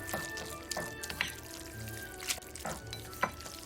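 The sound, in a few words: water being poured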